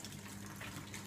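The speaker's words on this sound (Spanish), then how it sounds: "Echamos otra vez agua" Water gushes and splashes steadily during housework, a continuous close rush with a faint hum underneath and no speech.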